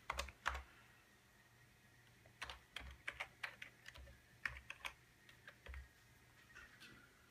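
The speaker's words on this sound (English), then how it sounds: "Type in my shitty fake password." Quiet, close keystrokes on a computer keyboard type out a password at a Windows login, coming in short irregular bursts of clicks and taps with no talking.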